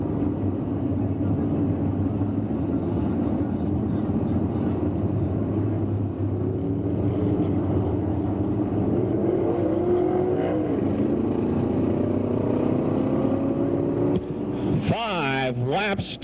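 Race cars roar around a dirt track in a 1997 feature race, a dense continuous engine drone with shifting pitches from several cars, mid-distance, with a commentator talking over it throughout.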